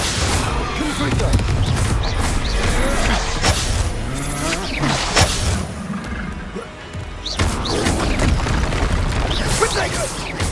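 A Confringo fire spell explodes in the Hogwarts Legacy game amid a steady roar of combat noise, crashes and booming impacts layered over constant loud background sound.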